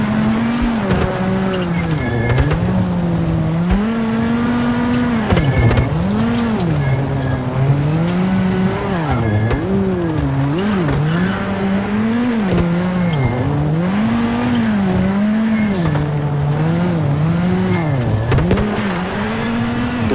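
Toyota Yaris rally car racing a Deutschland stage in the WRC7 video game, its engine loud and continuous, revving and shifting through rising and falling pitch sweeps with occasional tire squeal.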